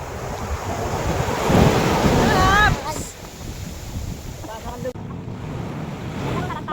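Big ocean waves surge and crash around a boat, a loud broadband roar with heavy wind buffeting the microphone; a voice briefly cuts through early on, then the rushing water continues at a lower, steady level.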